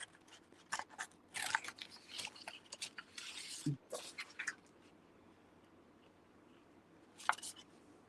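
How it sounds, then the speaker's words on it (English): Paper scissors snipping through fabric, a run of short crisp cuts in quick irregular succession, close and fairly quiet, then a pause before one final snip. "I'll use these paper scissors. And I'm just going to, right now, just cut this extra off."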